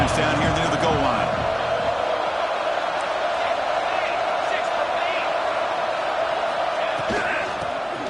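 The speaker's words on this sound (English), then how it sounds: "this big crowd doing everything possible to inspire this defense down here near the goal line" A big football stadium crowd roars for the defending team as play sits near the goal line, a dense, loud, unbroken wall of cheering and yelling that fills the whole stretch, with sharper shouts and whoops rising near the start and again toward the end.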